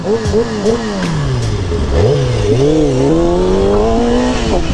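A stock Kawasaki ZX6R 636 motorcycle engine revs loudly up close, its pitch rising and falling in repeated sweeps.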